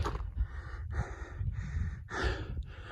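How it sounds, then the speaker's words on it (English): Heavy, deep breathing of a hiker out of breath near the top of a steep climb on the Camino de Santiago, a run of loud, close rhythmic gasping inhales and exhales with no talk. "I'm out of breath. Sorry for the deep breathing."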